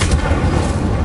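An Incendio fire spell is cast in a Hogwarts video game, a loud, dense whooshing burst with a low booming rumble sustained for about a second, with no talking.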